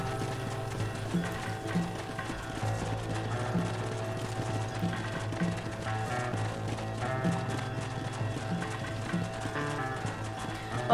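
Hooves clip-clop in a steady galloping rhythm from a horse in Red Dead Redemption, moderately loud over a constant droning game soundtrack.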